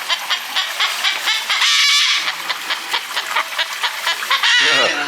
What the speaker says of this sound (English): Little chicken.